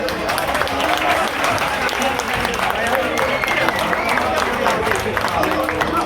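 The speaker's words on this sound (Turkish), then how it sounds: "Bu mudur alkışımız yani? Bu mu?" A seated audience claps in a steady, dense wash of applause that holds evenly throughout, with voices and murmuring mixed in underneath.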